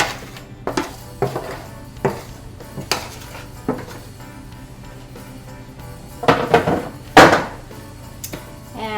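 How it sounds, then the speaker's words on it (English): Roasted vegetables being tipped into a bowl for a Mediterranean-style chickpea salad, heard as scattered soft clinks and taps of utensils against dishware, ending with a couple of louder clattering knocks, close by. "So we're going to put all of these into that bowl."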